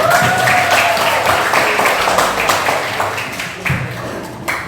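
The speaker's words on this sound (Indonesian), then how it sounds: "berikan tepuk tangan lagi" Classroom applause from students during a teaching session, a loud burst of many hands clapping close by, dense at first and tapering slightly toward the end, with a little background noise.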